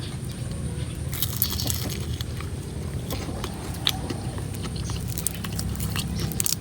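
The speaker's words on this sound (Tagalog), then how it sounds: "Unang kagat para sa inyo." Crisp crunching bites close to the microphone, a few sharp crackles as a crispy ube turon made with red glutinous rice and cheese is bitten and chewed, with no talking.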